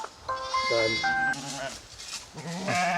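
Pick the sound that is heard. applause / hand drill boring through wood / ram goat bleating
ram goat bleating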